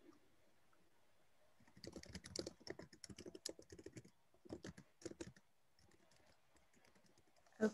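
Rapid typing on a computer keyboard during an online Zoom event, dense bursts of key clicks in quick runs separated by short pauses, close and fairly quiet, with no talking.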